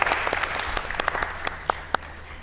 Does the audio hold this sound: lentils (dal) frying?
no